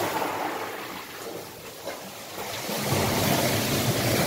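Sea waves surge into a rock crevice at Marsden Bay, a hissing, washing rush that swells and grows louder toward the end, mixed with wind.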